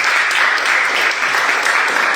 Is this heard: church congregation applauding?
yes